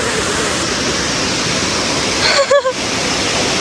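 A waterfall roars as a steady, full broadband rush that fills the whole clip, with a brief chirping sound near the end.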